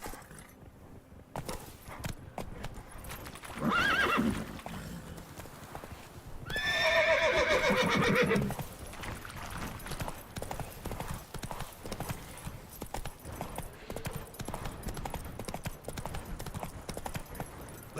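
Rapid hoofbeats of a galloping horse in The Witcher 3, loud and continuous, broken by two whinnies and neighs partway through.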